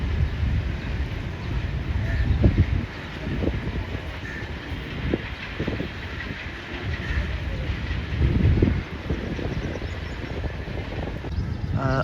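The Tezgam express passes Murree railway station, making a steady loud rumble of rolling rail wagons with faint clickety-clack and some wind noise on the microphone. The rumble holds throughout, with no voices.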